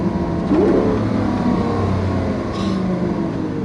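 A Lamborghini Aventador LP700-4 V12 engine holds a loud, steady roar heard from inside the cabin while riding, with a brief rise in pitch partway through.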